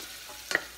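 Onion sizzling in a hot pan: a steady close frying hiss with a brief stirring scrape, and no voices.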